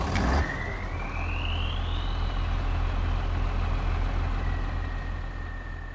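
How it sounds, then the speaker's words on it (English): A tractor engine in Farming Simulator 25 cranks and fires up, then settles into a steady low diesel idle with a rising whine, loud and close with no talk. "I want you to hear the engine sound when this thing starts up"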